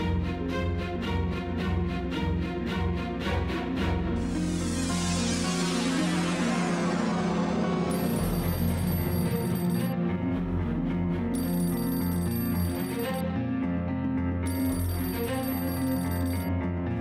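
Telephone ringing loudly in a home, a rapid repeating electronic ring followed by several long bursts with short gaps between them.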